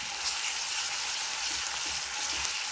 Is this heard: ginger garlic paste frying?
yes